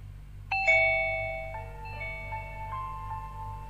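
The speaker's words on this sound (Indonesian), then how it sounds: "Bel terus berbunyi berkali-kali" A house doorbell rings with a clear, loud electronic ding-dong chime, followed by a few softer ringing tones that fade out over a low steady background hum.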